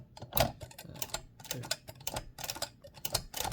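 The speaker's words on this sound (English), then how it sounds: "You can actually kind of see the backspace in action." A Mignon typewriter with its carriage rack and backspace mechanism under repair clicks and clacks in a close, uneven run of sharp metallic ticks and snaps, heard alone without talk.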